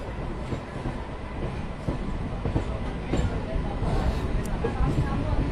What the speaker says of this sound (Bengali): আর এখন থেকে হাওড়া যাবে এই ট্রেনটি এই 2 নম্বর প্ল্যাটফর্মে ঢুকবে।